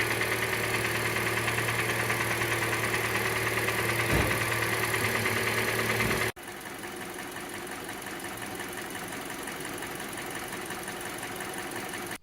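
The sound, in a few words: engine ticking noise, 2011–2016 Hyundai Elantra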